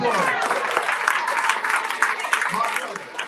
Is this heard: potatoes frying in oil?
no